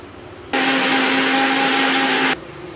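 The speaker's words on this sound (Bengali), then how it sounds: "দেখো পোস্ত, আদা, একটুখানি রসুন দিয়েছি, এগুলো পেস্ট করে নিচ্ছে।" An electric kitchen grinder whirs steadily, blending poppy seeds, ginger and a little garlic into paste; the loud, even motor whine starts abruptly, holds for about two seconds with a steady tonal hum, then cuts off.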